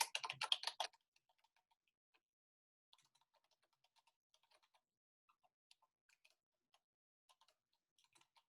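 A burst of fast typing on a computer keyboard, then sparse, quiet individual key taps spread out over several seconds.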